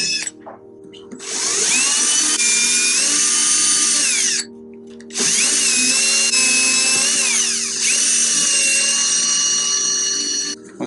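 Power router cutting into a wooden door to fit a doorknob lock, with two long bursts of loud, high whining cutting noise separated by brief pauses, preceded by a short spin-up.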